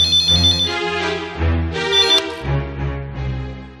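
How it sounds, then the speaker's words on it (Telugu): A phone ringtone plays loudly and steadily for about four seconds as a melodic sequence of electronic tones, with no one speaking over it. "ఫోన్ది."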